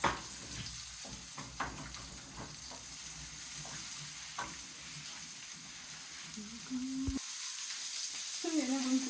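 Onions sautéing in a pan for Mexican-style keto cauliflower rice, a faint steady sizzle with occasional stirring clicks, close and quiet, joined near the end by a brief voice.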